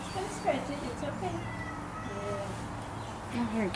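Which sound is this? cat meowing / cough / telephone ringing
cat meowing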